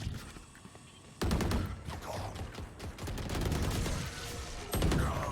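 Rapid bursts of gunfire from a shooting video game crackle in dense volleys, pausing briefly before resuming loud and sustained, with a voice faintly present beneath.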